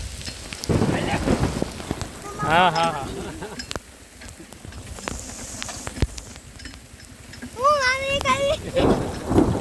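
Heavy rain pours steadily with low thunder rumbling, while people talk and laugh loudly over it.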